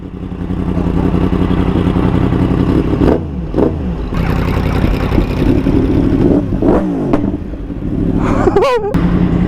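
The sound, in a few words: motorcycle engine revving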